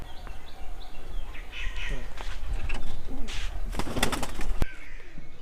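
A white pigeon coos softly at close range, with brief chirps and a few sharp rustles or clicks toward the end over a low background hum.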